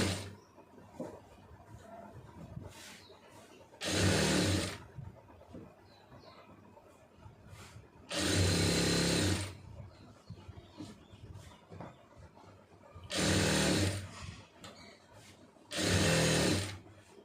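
A sewing machine stitches pant fabric for pencil-fit trousers in four separate bursts of steady, loud whirring and rattling. Quiet handling sounds fill the pauses between bursts.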